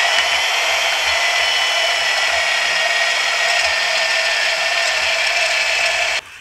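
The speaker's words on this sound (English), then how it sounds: "I'm going to cut the bulk off with my portaband." A portable band saw cuts through steel I-beam sections, a steady, loud, continuous high-pitched grinding whine that holds unbroken for about six seconds before dropping off abruptly at the end.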